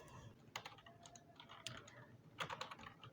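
Quiet typing on a computer keyboard during a Python programming class, a few soft, irregular keystroke clusters with short pauses between them.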